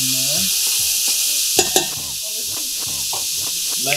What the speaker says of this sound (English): Then we're gonna add some fresh garlic to it. It's hot.